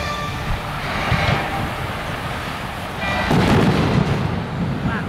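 Deep rumbling booms from theme park show explosion effects swell and roll in a large open space, loud and sustained like distant explosions, with crowd noise underneath.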